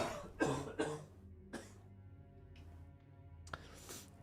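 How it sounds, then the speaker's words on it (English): An adult man coughs several times in separate harsh bursts, close and fairly loud, with quiet gaps between, during a Diablo 4 gaming session. "Cough like an old man."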